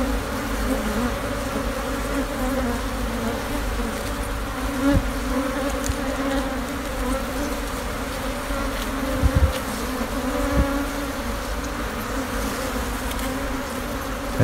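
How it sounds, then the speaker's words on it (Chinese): A swarm of honey bees nesting inside an abandoned sofa gives a dense, steady buzzing hum that holds for the whole stretch, close and continuous, with a few faint knocks and no talking. "为什么蜜蜂喜欢在这个沙发里面做窝？"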